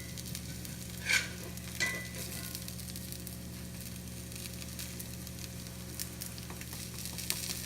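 Sweet corn tamale cakes sizzle steadily in a cast iron pan, a constant close frying hiss with a couple of brief scrapes from a metal spatula.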